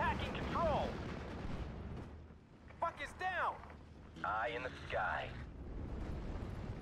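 Bombing and artillery fire in the WWII strategy video game Steel Division: Normandy 44, with a deep continuous rumble of explosions. Whistling, sweeping tones rise over it in a few bursts.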